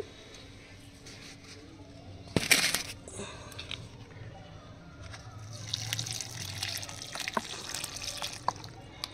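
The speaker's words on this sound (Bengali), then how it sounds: "এবার আমি এই গাছটার মধ্যে ভালো করে জল দিয়ে দিচ্ছি।" Water pours onto a potted plant's soil with a sudden splashing burst, then trickles and drips more gently, interspersed with soft handling noises.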